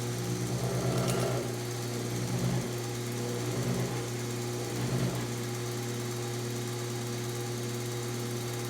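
A Kalamazoo belt sander runs with a steady motor whine while its head is twisted, with a few faint surging bumps early on before it settles into an even hum.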